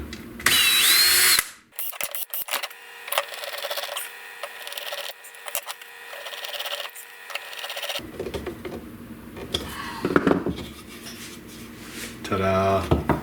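Power drill driving screws into a 3D printed rigid heddle loom during assembly; after a loud burst of handling noise, a sustained whirring drive follows, then clattering parts and short motor bursts near the end.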